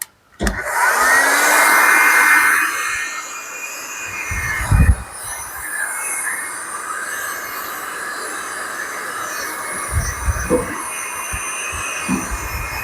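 A heat gun blows on its maximum setting to soften glue on a bespoke sink unit, a loud steady roaring whoosh, with a few knocks and a voice speaking briefly over it.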